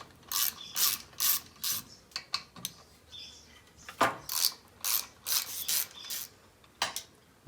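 A hand ratchet loosening the pull-start bolts on a paramotor engine, quick repeated clicking bursts of the pawl with short pauses between strokes, close and clear, with no talking.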